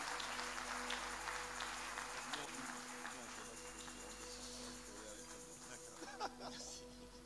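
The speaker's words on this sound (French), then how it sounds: "Let's clap for the Lord." A church congregation claps, faint and distant under a steady electrical hum, a dense spread of hand claps continuing throughout with a voice faintly audible beneath.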